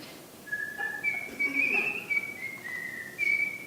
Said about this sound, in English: I whistle all the time.